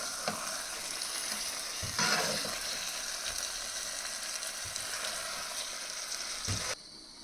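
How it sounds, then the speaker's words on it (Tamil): Crab in Indian masala gravy bubbles and sizzles in a pan while it is slowly stirred, with soft scrapes and occasional taps of the spoon over a constant hiss, which cuts off abruptly at the end. "நண்டு போட்டதுக்கப்புறம் இப்போ மெதுவாக மிக்ஸ் பண்ண வேண்டியதான்"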